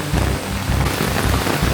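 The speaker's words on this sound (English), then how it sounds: "It has just started absolutely tipping it down." Heavy rain pours down steadily in a rainforest, a dense, continuous hiss of drops hitting surfaces all around.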